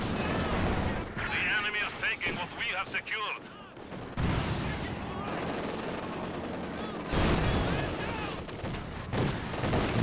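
Sniper shots and gunfire in the Company of Heroes 2 strategy game, loud repeated bursts of shots and explosive cracks in clusters, with battle noise filling the gaps.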